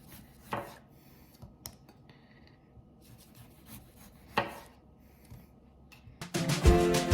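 A knife slices potatoes into half-inch rounds on a board, giving sparse, quiet cuts and taps with soft scraping, then a louder clatter of handling at the end.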